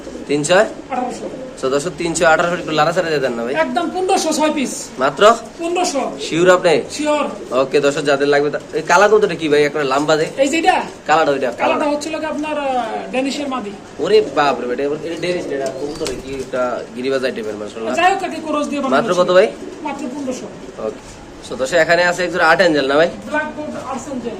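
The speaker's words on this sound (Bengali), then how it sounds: "তিন জোড়া 6 পিস কবুতর" Pakistani pigeons coo steadily and close up in overlapping throaty calls that run the whole time, with someone talking over them.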